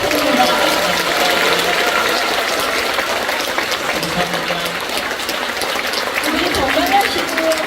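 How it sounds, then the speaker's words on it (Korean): An audience at a talk concert in Seogwipo, Jeju, gives a priest a sustained, dense round of applause that stays loud and even from start to finish, with a voice speaking faintly underneath. "큰 박수 부탁드립니다"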